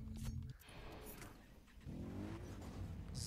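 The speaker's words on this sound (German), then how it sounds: "Wir kommen doch recht gut voran mit dem Quad." A quad bike in the jungle shooter game Far Cry 3, its engine droning and revving up close over a short stretch, loud and steady with a brief dip.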